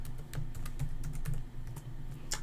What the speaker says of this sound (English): Of course, it asks for a password, so I'm going to type that in.